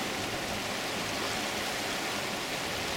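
Steady rushing water of Clear Creek in Silver Plume, Colorado flows continuously, a broad even wash of sound with no voices, like a fast mountain creek close by.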